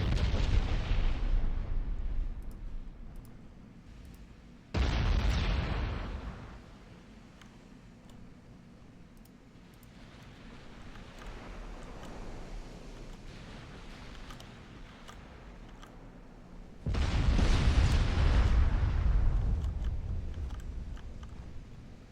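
Battleship main guns fire salvos in the naval game Ultimate Admiral: Dreadnoughts, three heavy booming blasts with long rumbling tails, spaced several seconds apart, the last the loudest.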